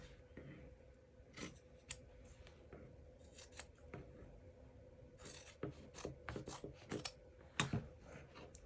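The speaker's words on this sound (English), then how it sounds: "But I am going to just trim my little edges here." Scissors trim the corners of sewn fabric in a sewing project, giving quiet, close snips that come in small irregular bursts and clusters over a faint background, with no talking.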